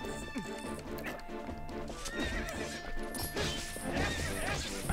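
Horse neighing and clip-clopping hooves from The Legend of Zelda: Twilight Princess HD, with a steady trotting rhythm, an occasional crash and game effects layered over it.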